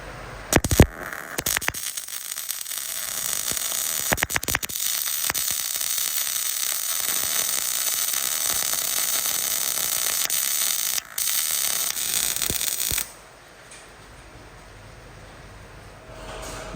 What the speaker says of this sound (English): Just like that, we got her welded together.